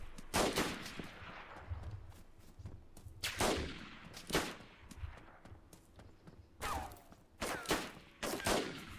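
Video game gunfire comes in sharp, loud bursts, single shots and short rapid volleys spaced irregularly over several seconds, with no voices heard.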